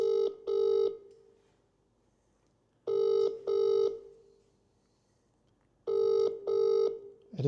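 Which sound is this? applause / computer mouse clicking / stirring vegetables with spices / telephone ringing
telephone ringing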